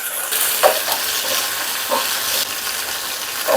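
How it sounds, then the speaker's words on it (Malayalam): Cashews and raisins fry in a pan for ice apple payasam, giving a steady loud sizzle with a few soft stirring scrapes at intervals. "അണ്ടിപ്പരിപ്പ് ഏകദേശം മൂത്ത് വരുമ്പോൾ ഇതിലേക്ക് കിസ്മിസ് ചേർത്ത് കൊടുക്കുക"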